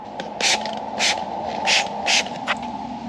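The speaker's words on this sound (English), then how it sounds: "then we'll do our water bubble spray" A hand spray bottle mists soapy water onto the air suspension of a RAM truck for a leak test, giving five short hissing sprays in a quick, uneven rhythm close by, over a steady hum.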